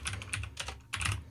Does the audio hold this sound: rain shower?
no